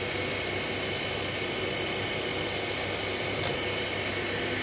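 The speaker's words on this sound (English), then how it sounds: "3000 RPM now. Now the full feed has been engaged." A Sharp TMV vertical milling machine from 2010 runs at 3000 RPM with full power feed engaged, giving a loud, steady, unbroken mechanical whine and hiss that holds even throughout.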